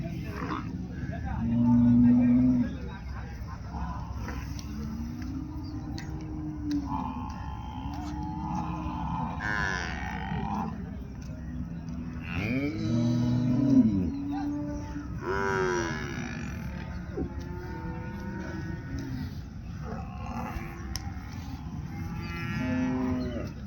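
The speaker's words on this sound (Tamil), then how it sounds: "கிடாரி, எருமை கிடாரி." A buffalo heifer moos repeatedly at a busy cattle market in Erode, long low calls rising and falling over several bursts, with people talking and other animals around.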